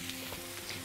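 Tomatoes grilling until they start to char, a steady close sizzle and crackle of frying, alone and without voices.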